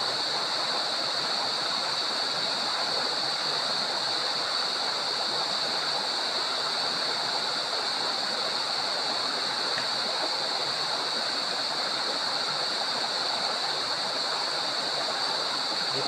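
Shallow river current flows steadily and evenly, a constant rushing wash with no pauses and no voices.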